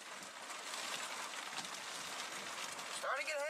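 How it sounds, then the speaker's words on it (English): Hail starts pelting down during an evening tornado storm near Odessa, Texas, a dense, steady clatter like heavy rain on surfaces, close and continuous, with a brief voice breaking in near the end. "Starting to get hail."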